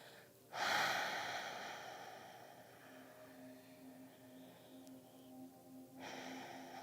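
Slow breathing during a yoga twist in a relaxed class, with a long audible inhale-exhale swell near the start and another breath beginning toward the end, over a soft, steady background.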